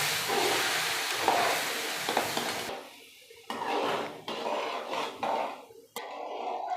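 Semolina being stirred in a hot pan for kesari: a loud sizzling hiss of water hitting the pan, then scraping and stirring strokes in uneven bursts.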